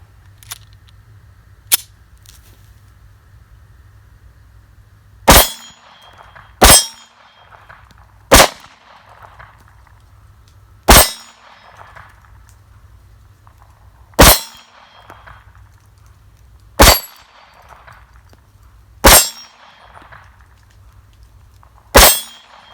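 An SCCY CPX-2 pistol firing Winchester target ammo: a faint early crack, then about eight loud, sharp shots at uneven intervals, each with a ringing metallic clang, over a low background hum.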